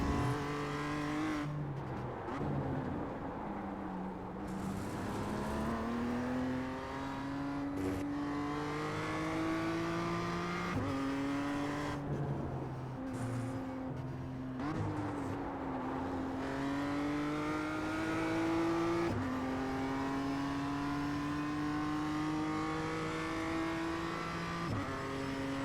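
Race car engines whine and rev through gear changes in a racing video game, steady high-pitched drones climbing and dropping with each shift, occasional tire squeal and other cars passing, continuous and fairly close with no talking.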